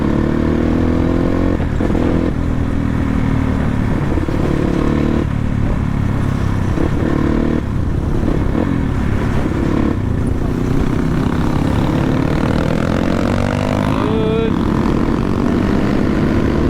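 A dirt bike motorcycle engine running after a carburetor fitting, loud continuous droning with revving pitch shifts and brief dips, heard up close without talk over it.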